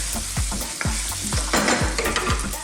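Sweet potato rice stir-fried in a wok, a loud continuous sizzle broken by repeated scraping and tossing strokes of a spatula, with no voices.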